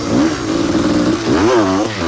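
A 200-class off-road racing motorcycle at the 1991 Sun City 400 in South Africa revs loudly and steadily, its pitch climbing and dipping as the engine rises and falls over about two seconds.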